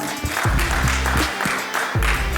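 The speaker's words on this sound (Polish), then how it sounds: "dla niego brawa" An audience at a construction and energy forum applauds the event organizer, with continuous clapping throughout and low-pitched voice or music tones underneath.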